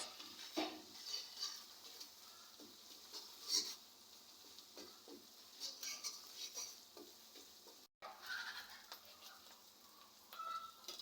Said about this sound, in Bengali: এরপর বেটে রাখা জিরে ও শুকনো ঝাল কড়াইতে দিয়ে আবার আরেকটু নাড়াচাড়া করতে হবে